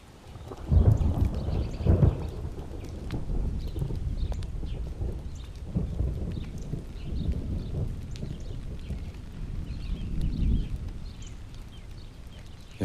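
A thunderstorm with rain: deep rolling thunder swells and fades repeatedly over a steady wash of falling rain, with loud rumbles near the start and softer ones later.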